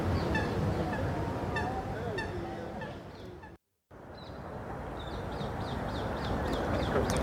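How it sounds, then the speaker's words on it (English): Greylag geese and Canada geese honking in a park, a busy chorus of repeated nasal calls close by, briefly cut off then resuming with a steady run of rhythmic honks. "those grey-lag geese have just come out of the water, and they seem to be dominant to the Canada geese"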